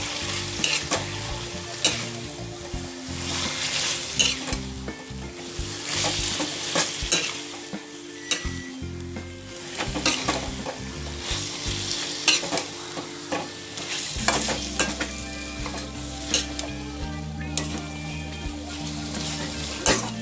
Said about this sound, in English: I'm going to stir this for a while.